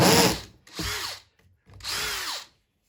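A power drill with a built-in light whirs in three short bursts, spinning up and winding down with brief silences between, close and clear.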